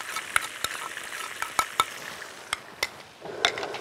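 Garlic and tomato paste sizzle steadily in a hot pan while a spoon scrapes and taps against the metal in irregular knocks, close and fairly quiet, with no talk.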